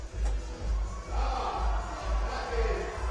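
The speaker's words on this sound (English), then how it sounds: "crowd is cheering" An audience at a bouldering competition final cheers and shouts in sustained, swelling waves, a dense roar of many voices with a low rhythmic thumping underneath.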